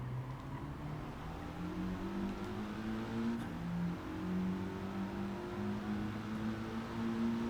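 A race car engine in Gran Turismo 7 drones steadily, its pitch rising and falling gently through the gears at a low, even level, with no voices.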